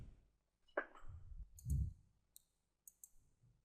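Mouse clicks selecting a banner on a trading course website, a few sharp short clicks heard alone in a quiet room.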